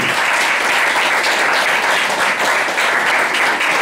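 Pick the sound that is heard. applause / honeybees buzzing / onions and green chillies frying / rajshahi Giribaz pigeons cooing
applause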